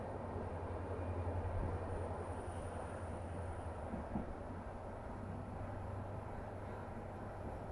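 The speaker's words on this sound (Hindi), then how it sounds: "गुवाहाटी से चल कर के ओखा को जाने वाली ट्रेन है, जो अभी न्यू गुवाहाटी रेलवे स्टेशन पे खड़ी है।" A train for Okha stands at New Guwahati railway station, a steady low rumble of idling locomotive and coaches with faint high whine, a constant hum without speech.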